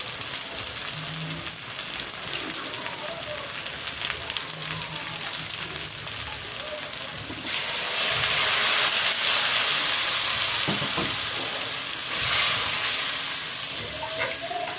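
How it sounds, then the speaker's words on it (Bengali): Ground cumin and coriander sauté in hot oil with a splash of water, a soft sizzle that bursts into a louder, steamy hiss partway through and swells again near the end. "এবার আমি মশলাগুলো একটু কষিয়ে নেব"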